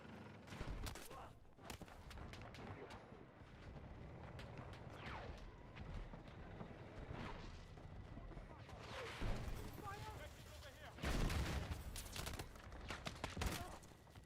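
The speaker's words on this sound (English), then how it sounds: "I'm shooting at tanks with bullet guns and shit like that." Gunfire crackles in Battlefield 6 during a bot-lobby match, scattered quick shots and short bursts over a busy game mix, with louder volleys near the end.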